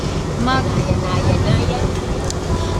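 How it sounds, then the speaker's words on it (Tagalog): Strong wind buffets the microphone on a moving boat off Samal Island, a steady roar with faint voices underneath. "malakas yung hangin"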